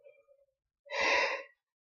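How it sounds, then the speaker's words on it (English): A single human yawn, a breathy drawn-out exhale lasting about half a second after a brief faint tone, alone in otherwise near silence. "I know I make weird faces when I yawn."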